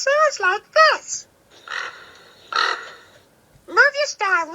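A crow caws harshly several times in short bursts, loud and close, with breathy grunting sounds between the calls, likely a voice imitating the bird in a children's nature song.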